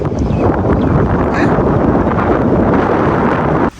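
Strong wind buffets the microphone in a continuous loud roar, rumbling and gusty, cutting off abruptly at the end.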